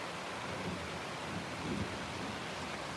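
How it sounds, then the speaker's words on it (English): Distant thunder during a storm under a white sky: a faint, low rumble swelling briefly inside a steady wash of noise that sounds like rain, with no voices. "But that thunder's over there."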